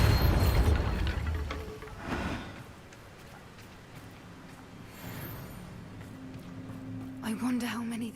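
Bombarda blasting spell in the video game Hogwarts Legacy: a heavy, close explosive boom with a rumbling tail that fades over a couple of seconds, followed by quieter ambient rumbles, clanks and faint voices.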